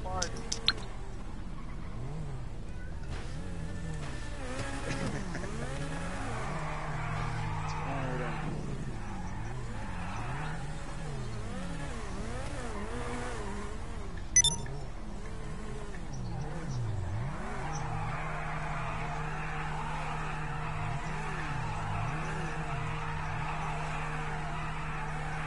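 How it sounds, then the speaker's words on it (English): Car engine in GTA 5 drifting with the clutch, revving and wavering in pitch with brief tire skids, heard under continuous talk from several players in a party chat. "I'm drifting with the clutch. You should see how bad this is. Trying to drift with the clutch thing."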